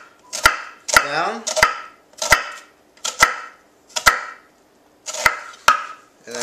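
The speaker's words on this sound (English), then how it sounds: "it's just going to be a rough chop" A knife rough-chops on a cutting board for quinoa and black beans, giving about ten sharp, loud, close knocks at an uneven, unhurried pace, with a brief word of speech between cuts.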